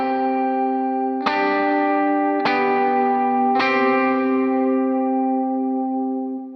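Guitar strummed three times through an effects pedal with reverb set too high, each chord swelling into a long, washy, swimmy tail that blends into the next, loud and continuous with no talking.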